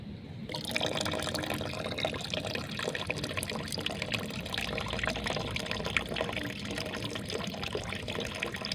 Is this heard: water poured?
yes